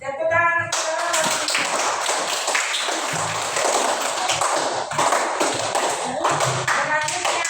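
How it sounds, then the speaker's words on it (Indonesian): Students in a classroom clap together for a student group, a dense, fairly loud patter of hands, with voices talking over the clapping at the start and in places. "Tepuk tangan untuk kelompok"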